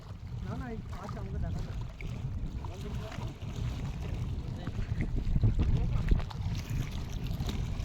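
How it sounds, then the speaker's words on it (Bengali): A boat sits on the water in the Sundarbans, with sloshing and lapping water and a broad, steady rumble beneath. People talk throughout. "এই হচ্ছে আমাদের বোট।"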